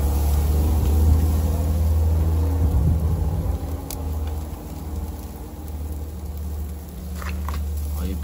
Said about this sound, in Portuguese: Não liga o barulho, tem caminhão passando na rua aí.